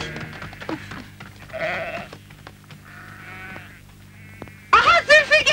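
Goats from a herd bleat several times out in the open, wavering cries spaced irregularly, the last and loudest burst coming near the end, with faint background voices.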